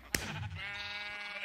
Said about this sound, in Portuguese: Tem umas ovelhas lá